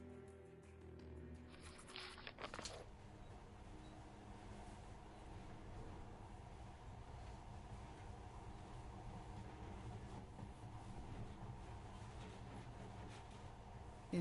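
Metro Last Light monorail train running: a low, steady rumble and hiss of the moving car continuing throughout, faint and even, after a brief mechanical clatter at the start.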